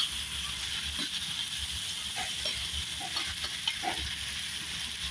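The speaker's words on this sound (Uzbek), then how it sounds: "Go'sht qovurilyapti." Meat fries in a cauldron for Uzbek plov, giving a steady, close sizzle with soft hissing throughout and a few faint stirring scrapes.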